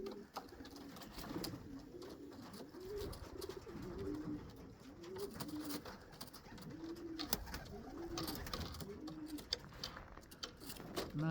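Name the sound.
racing pigeons cooing outside loft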